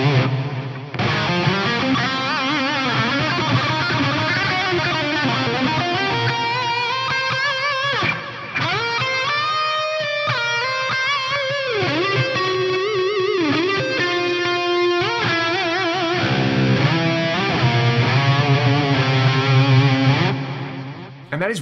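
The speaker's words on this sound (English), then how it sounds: "the Echo Hall type in the Plex delay, just at stock settings, is going to give you a bit of a reverb-y thing, a bit of a delay style thing" Electric guitar played through the Plex delay's Echo Hall type at stock settings on a Fractal FM3, with distorted chords and melodic lines trailing into a washy, reverb-like echo tail, steady and loud throughout with no talking.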